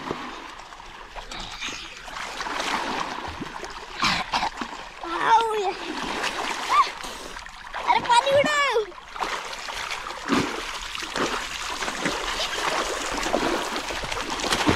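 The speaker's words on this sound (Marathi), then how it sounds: "हे पाण्यात पोहत आहेत." Children swim and splash in a river, with intermittent splashes of water and children's shouts and chatter over a steady flowing-water background.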